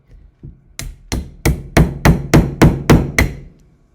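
Hammer blows on a steel chisel cutting into a workpiece, about ten sharp, evenly spaced strikes that grow louder and then fade slightly, heard up close with no talking.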